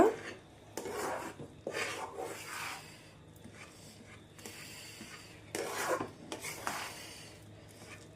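Rice flour being stirred into jaggery water in a pan for palathalikalu gives a soft, rhythmic scraping and rubbing, with repeated strokes against the metal and quieter pauses between them.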